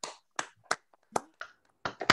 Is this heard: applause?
yes